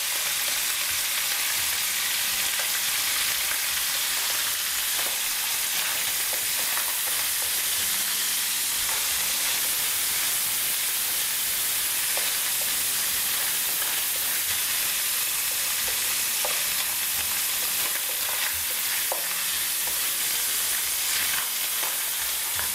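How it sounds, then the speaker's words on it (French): Onions sizzle and fry steadily in a hot pan, a dense continuous crackling hiss with faint stirring clicks throughout, no voices. "Et je mets les oignons."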